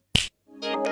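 A single sharp finger snap cracks out close and crisp, followed a moment later by a rising tonal electronic effect in an animated robot-boy cartoon.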